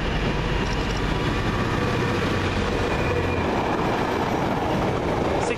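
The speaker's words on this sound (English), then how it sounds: "Six oh nine nine heading through the fast line with the freight train" Freight train 6099 rolls through the fast line at Swinton, a loud, continuous rumble of wagons with a rhythmic clickety-clack of wheels on rail and a faint squeal, heard close and alone.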